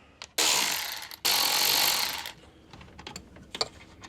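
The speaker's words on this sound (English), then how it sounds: "I'm going to actually take the 2 screws off for the intake tube" Intake tube screws on a 4th gen Toyota Tacoma are backed out with a power driver, giving two loud close whirring bursts of about a second each, then a few faint clicks and handling knocks.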